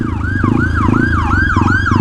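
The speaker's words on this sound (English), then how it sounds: "I hear sirens. It's an ambulance." An ambulance siren wails in a steady repeating up-and-down sweep, loud and continuous over a low engine rumble.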